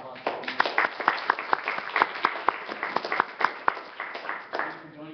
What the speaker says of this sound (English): Can I get a round of applause for you?